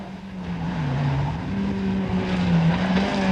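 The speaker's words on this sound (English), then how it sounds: "the cars cut into the road with a 4-wheel drive and their powerful engines" Four-wheel-drive rally cars at the 1991 Niedersachsen Rally drive hard, their powerful engines giving a continuous loud drone that wavers and rises in pitch as they accelerate, with a rough road-noise backdrop.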